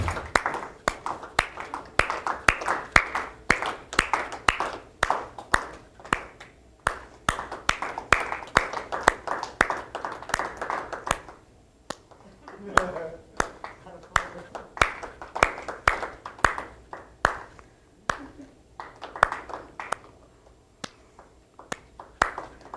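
A group of people in a public library audience claps in unison for a clapping game, steady rhythmic hand claps that pause briefly midway and resume, with some softer and louder stretches.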